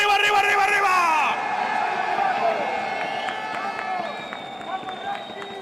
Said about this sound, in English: How you cheer for Miami?